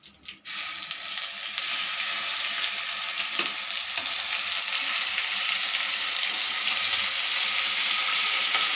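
Cumin seeds and dried red chillies sizzle in hot oil for coriander rice, starting with a sharp crackle and settling into a steady, close hiss that holds throughout with no talking.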